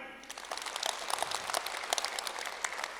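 An audience at an awareness class claps together in a dense, sustained round of applause, loud and continuous across the whole stretch with no talking over it.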